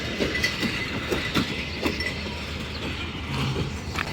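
The Khyber Mail passenger train, a long train of about nineteen or twenty coaches, rolls along with a rhythmic clickety-clack of wheels on rail joints and a steady rumble, heard from on board.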